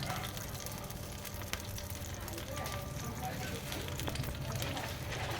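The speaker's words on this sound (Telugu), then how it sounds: "చిట్పట్లాడుతున్నాయి కదా" Mustard seeds splutter and crackle in hot oil, a steady dense sizzle with scattered sharp pops running throughout at close range.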